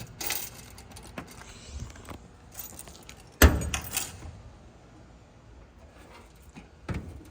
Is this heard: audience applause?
no